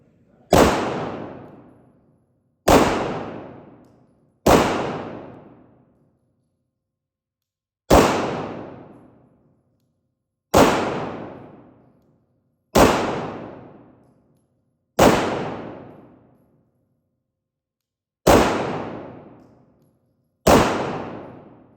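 Nine sharp gunshots ring out one at a time from a rifle at a shooting range during an accuracy drill, each loud crack followed by a decaying echo, spaced a couple of seconds apart.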